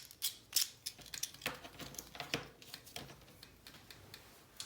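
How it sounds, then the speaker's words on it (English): Postal edge decorative scissors snip through paper in a quick series of close, crisp cuts, each a short bright crunch with small pauses between. "These are my postal edge scissors."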